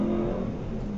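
A taxi's car engine revs hard and steady through a failing muffler, a loud, continuous, rough drone with no gaps and no voices.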